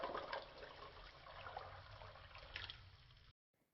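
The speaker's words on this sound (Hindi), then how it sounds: "1 कटोरी पानी डालना है।" Water poured from a bowl into a pan of sugar, a steady splashing, gurgling pour heard close and fairly loud for about three seconds before stopping abruptly, with no talking.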